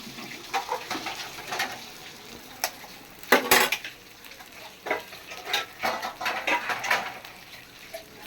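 Egg poured and spread onto a dosa on a hot griddle, with light sizzling under a series of sharp metallic scrapes and taps of a utensil against the pan, irregular and close.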